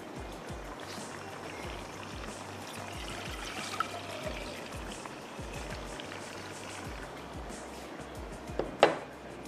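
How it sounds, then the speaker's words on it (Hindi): Water poured into a saucepan on a kitchen stovetop, a continuous trickling splash running steadily for several seconds, with a sharper clatter near the end. "और इसमें मैं ऐड कर देती हूँ पानी।"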